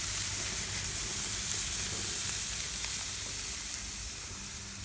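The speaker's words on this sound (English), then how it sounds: "now that the burgers are down like this, we're going to let them cook" Burgers sizzle and spit on a hot grill, a loud, steady frying hiss that stays close and continuous throughout with no one speaking.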